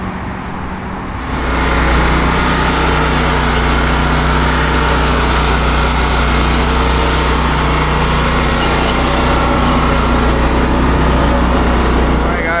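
A powered blower roars steadily up close, clearing debris off freshly mulched, de-weeded garden beds; the loud continuous drone starts after a brief lead-in and holds throughout.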